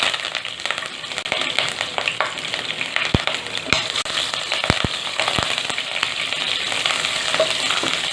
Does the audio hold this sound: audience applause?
no